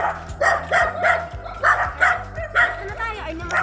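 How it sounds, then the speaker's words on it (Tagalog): Several dogs bark in short, repeated bursts close by on a mountain hike, with yips mixed in and a low engine hum underneath. "Kaninong aso yan?"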